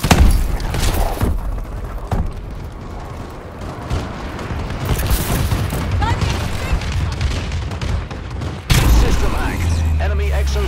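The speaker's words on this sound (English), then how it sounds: "Friendly bombing run clearing the way." A friendly bombing run in Call of Duty: Advanced Warfare sets off a string of loud explosions, with rolling booms and rumbling blasts. A final heavy impact is followed by low, sustained rumble.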